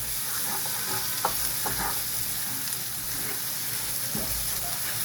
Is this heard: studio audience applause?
no